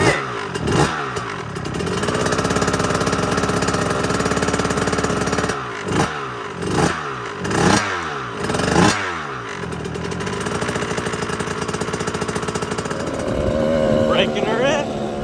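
A 2005 KTM 85/105SX dirt bike after a full rebuild, kick-started into a loud, close two-stroke engine that crackles and revs in sharp bursts, then settles into a steady run, with people talking over it.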